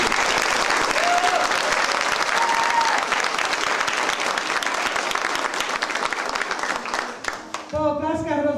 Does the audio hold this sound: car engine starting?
no